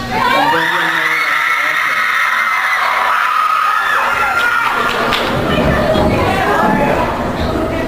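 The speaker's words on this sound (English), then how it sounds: "You should probably just move closest to where the screaming is loudest." A crowd of fans at VidCon 2014 screaming and shouting, loud high-pitched shrieks rising in waves with chatter and scattered thumps, close and dense throughout, with voices mixed in.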